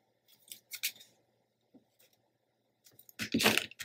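Scissors trim paper for a scrapbook page, making a few short crisp snips near the start and a louder cluster of close cuts at the end, with quiet gaps between.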